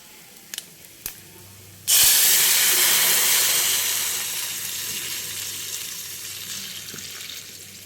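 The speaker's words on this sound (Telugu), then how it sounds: "ఇప్పుడు ఇందులోకి మనం ఈ రసం పోసేసుకుందాం" Rasam poured into a pan of hot fried tempering sets off a sudden loud hiss and sizzle after two small clicks, then a steady spattering steam that slowly fades.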